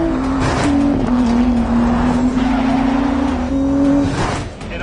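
A small European sports car accelerates hard on a tight race circuit, its engine note holding loud and close as it climbs steadily through the revs with no talk over it.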